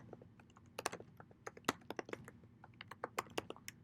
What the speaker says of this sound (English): And then I type some text here.